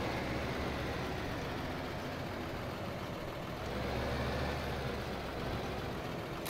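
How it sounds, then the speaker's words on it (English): Valtra tractor engine in the video game Farming Simulator 15, a steady low diesel drone at an even idle-like pitch, continuous and moderately quiet, with no speech. "Nice little tractor indeed."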